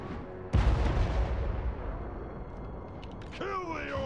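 A sudden heavy boom from grudge thrower and cannon artillery in the fantasy battle game Total War: Warhammer, followed by a rumbling decay of battle noise, with a voice shouting near the end.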